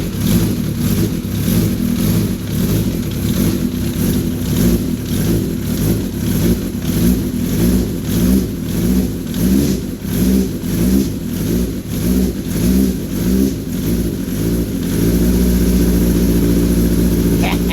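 A racing engine runs steadily just after its first start-up, with a loud, continuous throaty drone and repeated rhythmic revving pulses throughout.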